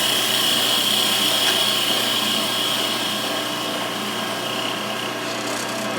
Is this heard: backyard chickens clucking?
no